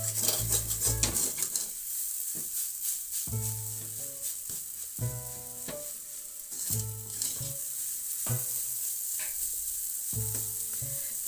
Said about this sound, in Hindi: इसे हम 5-6 मिनट तक इसी तरह भूनेंगे।